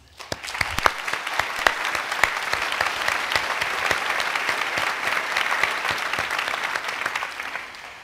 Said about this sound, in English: give yourselves, your family, and your friends a big round of applause for all of your efforts and achievements